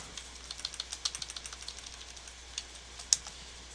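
Typing on a computer keyboard, a quick run of light key clicks followed by a few sparser taps, faint and close, no talk.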